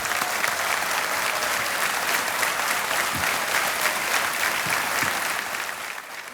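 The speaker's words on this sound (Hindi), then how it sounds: "तालियां बजती रहें इनके लिए" A studio audience on the KBC game show applauds steadily, dense clapping holding at even strength for several seconds before tapering slightly at the end.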